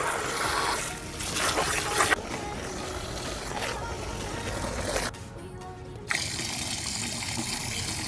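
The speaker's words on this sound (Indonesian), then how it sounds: "Kemudian kita isikan dengan air." Water poured into a container for soaking an aglaonema plant, a continuous splashing gush at close range with brief changes in flow, the stream breaking off for a second before resuming.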